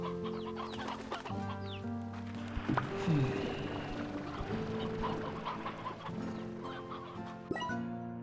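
Chickens in the video game Slime Rancher 2 cluck repeatedly in a busy barnyard chorus, fairly quiet and continuous, with an occasional sharper squawk and light thumps.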